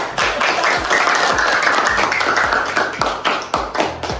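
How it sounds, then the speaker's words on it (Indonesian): A classroom group gives applause for a group of students who have just presented their discussion results, dense clapping from many hands filling the room steadily for about four seconds. "Ayo kita berikan aplaus ya."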